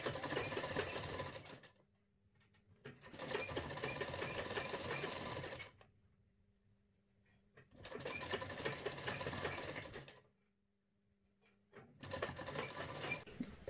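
Sewing machine stitching the neck of a blouse, running in four steady whirring bursts of a few seconds each, separated by quiet pauses, close and clear with no talk.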